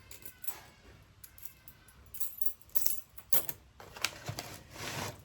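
Old metal keys jangle softly, giving scattered light clinks and rattles that grow busier toward the end, close but faint in a quiet room with no voices.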